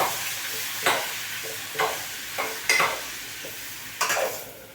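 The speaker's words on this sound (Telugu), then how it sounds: "ఆయిల్ హీట్ అయిపోయింది. ఇప్పుడు ఇందులోనే మనం టమాటా అనేది యాడ్ చేసుకున్నాం." Tomatoes frying in hot oil for chutney, a steady hiss of sizzling broken by four or five bursts as they are stirred and turned in the pan, no talking.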